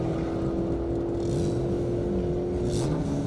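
A Dodge Challenger wide body and a Kawasaki drag race on an airport airstrip, a loud sustained engine drone with a steady whine and gear shifts.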